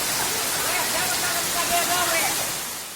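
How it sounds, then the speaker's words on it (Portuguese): Muddy runoff from a street pours down like a waterfall toward house yards after heavy rain, a loud, steady, close rushing wash with faint talk mixed beneath it. "Toda a água e terra da rua escorre, formando uma verdadeira cachoeira que vai direto para o quintal das casas"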